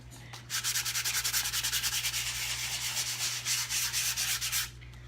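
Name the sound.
sanding a wooden Christmas ornament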